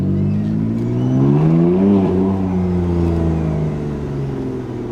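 A BMW M3 F81 Touring wagon with an aftermarket exhaust screams as the throttle is blipped between buildings, a loud, close rising rev that peaks and falls back, echoing off the walls.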